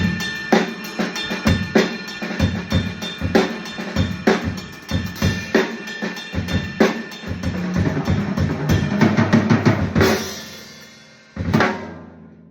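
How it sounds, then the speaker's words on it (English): A drum kit groove with kick, snare and cymbal hits that shifts into a ringing cymbal bell pattern, loud and close, ending with a crash and a last accent after a short gap; no speech. "And then using that groove can go over into the bell pattern"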